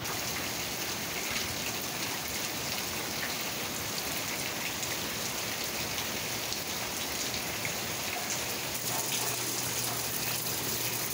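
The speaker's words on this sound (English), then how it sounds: "Partly cloudy, partly sunny, and amazing rain." Steady September rain with big droplets patters and splashes on surfaces, a dense, even hiss that stays constant throughout with no voices.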